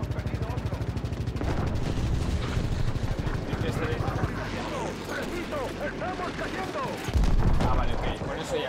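Rapid, loud gunfire from Call of Duty WW2 during the Battle of the Bulge mission, long fast bursts like automatic weapons, followed by more scattered shots and a heavy burst near the end, with someone talking over it.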